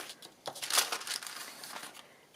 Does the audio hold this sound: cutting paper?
yes